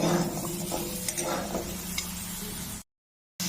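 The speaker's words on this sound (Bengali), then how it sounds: "বিট বিটরুট এটি আরও দু মিনিট ভেজে নেব খুব ভালো করে" Beetroot frying in a pan for a Bengali vegetarian beet and carrot curry, a steady close sizzle with faint stirring scrapes, cutting off abruptly to silence near the end before resuming briefly.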